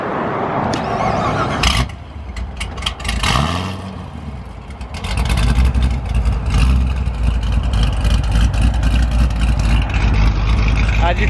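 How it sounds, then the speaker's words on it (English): Procharged 1000 horsepower Corvette Z06 or Camaro ZL1 muscle car starting up: the engine catches and settles into a loud, choppy exhaust idle that carries through to the end, with talk mixed in. "Start up and get some exhaust clips for you."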